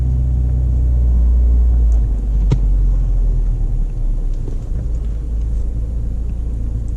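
A manual-transmission car's engine rumbles steadily at low pitch while reversing, with a brief click or knock partway through and no talking.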